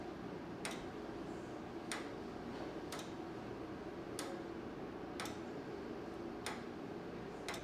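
A restored skeleton clock from an old post office ticks quietly in a room, its sharp ticks spaced about a second apart over a faint steady hiss.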